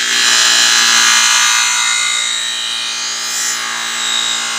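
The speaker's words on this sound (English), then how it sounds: "you definitely wanna let the buffer do the work" A power buffer polishes aluminum and stainless auto trim, giving a loud, steady whirring hiss that runs continuously and swells slightly at times, with no talking.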